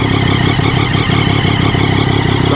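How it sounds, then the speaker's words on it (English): A 2011 Triumph Daytona 675R engine with a Werkes exhaust runs at a steady idle, a dense, loud, even drone with a faint rattly texture throughout. "Here's how the motor sounds."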